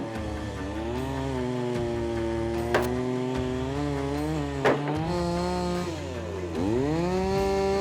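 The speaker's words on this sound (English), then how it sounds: "using a chainsaw to dig out a frozen log" A chainsaw runs steadily at close range, its whining pitch dipping and rising as it bites into a frozen log, with a couple of sharp knocks.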